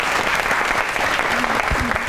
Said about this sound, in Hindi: आपकी बहुत सी तालियों में निम्रा मेहरा।